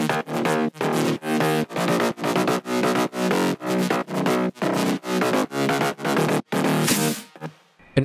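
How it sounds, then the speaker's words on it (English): Four stacked future house bass layers plus a sub, programmed in FL Studio, pump in a steady sidechained rhythm of bright, harmonically rich chords over a deep low end, loud and continuous before tapering off near the end. "For the bass, I've used four layers, I guess"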